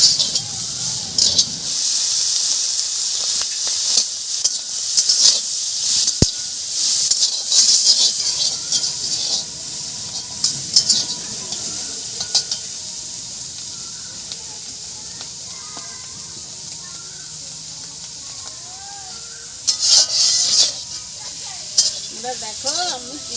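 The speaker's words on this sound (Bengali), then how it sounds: "দিয়ে আমি চিংড়ি মাছটাকে ভেজে নিচ্ছি।" Prawns seasoned with salt and turmeric fry in oil in a kadai, giving a loud, bright, hissing sizzle up close that dips and surges, with a sharp click partway through and brief spatters later.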